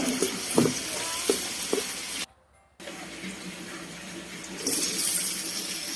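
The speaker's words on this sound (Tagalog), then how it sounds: "Ayan, ating bawang. Gisa-gisa lang tayo muna." Garlic sizzles and crackles in a hot pan while being sautéed for a menudo stew, with a few clinks of a stirring utensil. After a brief silent gap the steady frying hiss returns.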